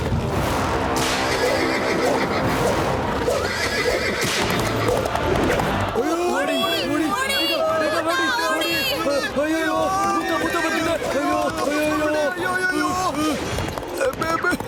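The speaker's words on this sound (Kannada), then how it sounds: "ಇದ್ದಕ್ಕಿದ್ದಂತೆ ಕುದುರೆ ಓಡ್ತಿರೋ ಶಬ್ದ ಎಲ್ಲಿಂದ ಬರ್ತಿದೆ?" A horse runs and neighs repeatedly at night in a nearby lane, with loud whinnies and snorts over hoof clatter and crashing sounds, and people's voices mixed in.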